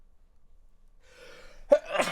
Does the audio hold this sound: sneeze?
yes